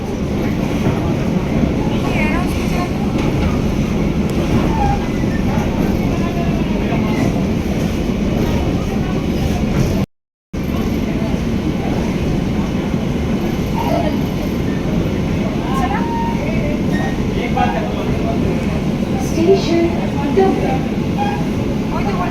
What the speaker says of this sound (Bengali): মেট্রো আমাদের ছেড়ে দিয়েছে এবার কিন্তু আমরা স্প্ল্যানেডে যাচ্ছি